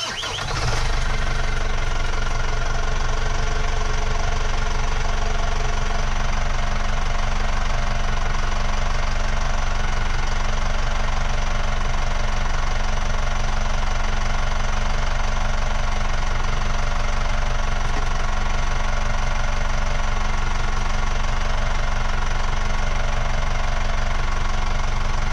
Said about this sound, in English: Just watch how this impeller drains this bucket.